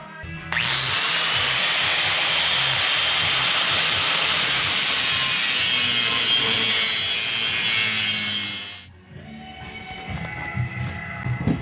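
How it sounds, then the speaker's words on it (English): A loud, continuous grinding rasp from cutting a slot in square steel tubing for a bumper and rack build, steady for about eight seconds before stopping into quieter workshop noise. "So there's the slot that I just ground out."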